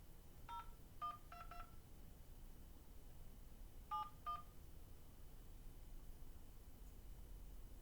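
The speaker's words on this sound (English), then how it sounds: "Please enter the month as a 2-digit number." Touch-tone keypad beeps entering digits on an automated phone line, two quick bursts of several short tones each, spaced apart over a quiet hiss.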